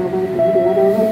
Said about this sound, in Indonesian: ini kereta api Jayabaya yang dari Jakarta dulu yang akan masuk stasiun Tegal